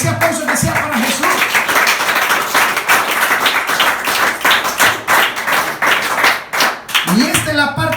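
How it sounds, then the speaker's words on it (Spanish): Congregation at a church service clapping together in a dense, steady, loud wash of applause, with voices rising over it at the start and end. "Ese aplauso que sea para Jesús."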